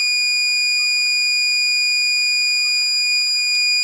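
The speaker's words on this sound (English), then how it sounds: "our panel's in alarm here" A gas detector panel's electronic alarm sounder holds a continuous high-pitched tone throughout, loud and unbroken, with no voices.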